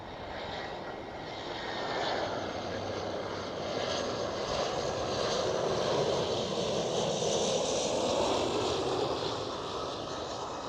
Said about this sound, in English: Next one up, EasyJet A320neo.